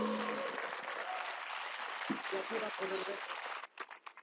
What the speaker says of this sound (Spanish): Quiero que le des un fuerte aplauso